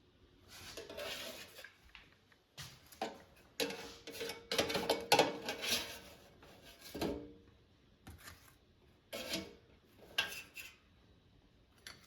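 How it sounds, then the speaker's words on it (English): Trader Joe's kebabs lifted out of an air fryer basket, with a series of close metallic clinks, scrapes and taps of tongs against the basket and plate, coming in irregular bursts with short pauses between. "Let's take them out of the air fryer."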